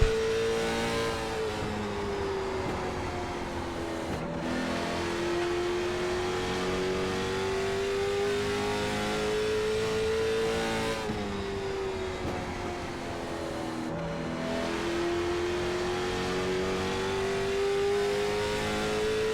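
Late model stock race car engine lapping North Wilkesboro in the iRacing simulator, a loud continuous whine rising and falling with shifts and corners, steady throughout with no talk.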